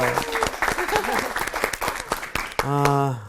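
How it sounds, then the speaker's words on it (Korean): Applause from a Bible study class audience welcoming a returning student, a short burst of clapping mixed with talking voices, ending as a voice speaks alone near the mic. "그럼 환영의 박수 한번 합시다"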